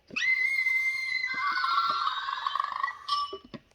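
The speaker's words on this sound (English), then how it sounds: "it does the scream like the movie" A toy water bottle at Disneyland blares a shrill, sustained electronic scream for about three seconds when opened, then cuts to a brief higher squeal, with small plastic clicks around it.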